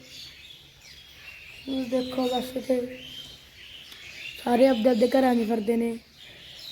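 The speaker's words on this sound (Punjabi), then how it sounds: "ਪੰਛੀ ਵੀ ਬੋਲਦੇ ਨੇ ਇੱਥੇ ਦੇਖੇ ਤੁਸੀਂ ਸੁਣ ਸਕਦੇ ਹੋ ਪੰਛੀ" Small birds chirp and tweet nearby in cold, rainy weather in Punjab, with faint high calls running under a voice as he talks.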